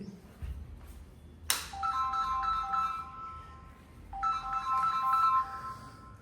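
A mobile phone ringtone plays a bright electronic melody indoors, sounding in two bursts separated by a short pause, fairly close and clear over a quiet room background.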